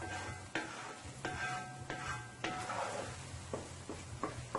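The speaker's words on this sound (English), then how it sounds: "So I'm sauteing my eggs here, guys. I'm getting all scrambled." Eggs being sautéed and scrambled in a pan: a soft, steady sizzle with several distinct scraping strokes spaced about a second apart, quiet and close, with no speech.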